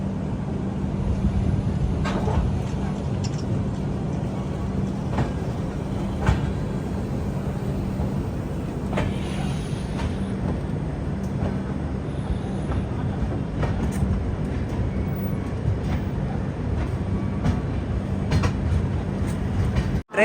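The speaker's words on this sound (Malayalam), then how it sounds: "ട്രെയിൻ ഇപ്പൊ കട്ടണി ജംഗ്ഷൻ റെയിൽവേ സ്റ്റേഷനിൽ എത്തിയിരിക്കുകയാണ്." Ernakulam Patna Express rolling into Katni Junction station, a steady rumbling of carriages with regular clicks from the rails and a low humming tone throughout, near and continuous.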